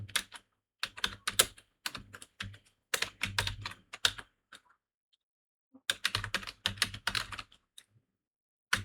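Someone types on a computer keyboard in rapid bursts of close, crisp key clicks, with a pause of about a second and a half midway before typing resumes, with no voices.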